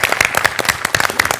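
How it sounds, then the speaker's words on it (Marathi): A studio audience at the Marathi comedy show Maharashtrachi Hasya Jatra claps in a brisk burst of applause. Many hands patter steadily and loudly throughout. "टाळ्या."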